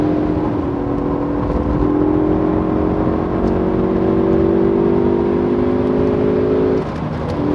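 A Ford Focus ST on a race track circuit, its engine droning loud and close with a steady, slowly rising tone, then easing off near the end.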